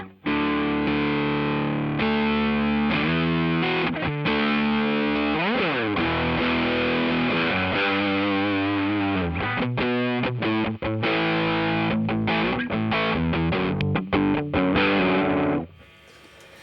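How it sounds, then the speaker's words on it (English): A JHS Kilt guitar pedal with its boost stage running into the drive gives a loud, saturated electric guitar tone, sustained distorted chords and bends ringing continuously before cutting off at the end, with no talking. "now we're running the boost into the drive"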